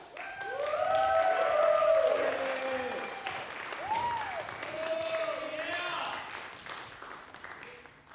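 Audience applause at a closing ceremony, sustained clapping under a few voices and cheers, swelling early then tapering over several seconds.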